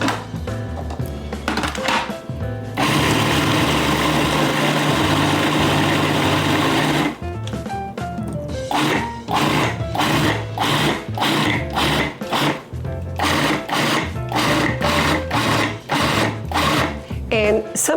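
A blender's blade whirs steadily for about four seconds while blending basil into a plant-based pesto, then cuts off and gives way to rhythmic, music-like pulses.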